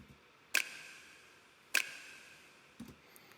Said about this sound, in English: And for the rhythm, it's just a snap.